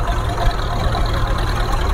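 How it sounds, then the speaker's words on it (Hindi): A tractor engine runs at idle at a fair, a steady low rumbling drone with constant loudness, close and unbroken. "फिलहाल ट्रैक्टर स्टार्ट है।"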